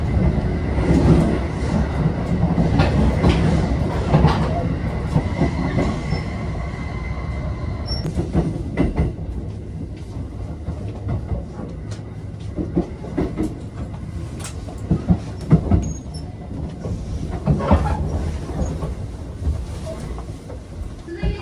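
A Thunderbird limited express bound for Tsuruga runs on the detour via Maibara, heard from aboard as a continuous rumble of rolling wheels with intermittent squeals and sharp clicks over the rails.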